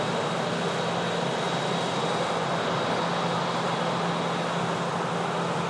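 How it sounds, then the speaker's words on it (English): Air Transat A321neo jet departing for Toronto, a steady broadband engine roar that holds at an even level throughout, with no voices. "this Air Transat A321neo is also heading off to Toronto, Canada"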